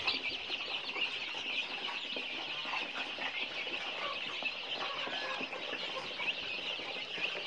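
A mixed-breed striped-head fighting chicken clucks faintly in a free-range yard, soft scattered clucks over a constant hiss of ambient background noise.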